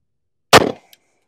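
A single sharp, loud shot from a Colt Defender 1911 compact pistol in .45 ACP firing Hornady ammunition, with a short ringing decay and a faint tick afterward, set against silence.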